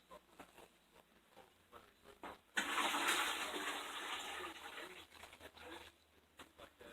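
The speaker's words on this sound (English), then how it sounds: "while the water's hot, the rest of the water's hot, we're going to pour it in our 5-gallon bucket" Hot water pours into a 5-gallon bucket for homemade wine, a sudden loud rushing splash that starts after a few quiet seconds of small handling noises and holds steady for about three seconds before tapering off.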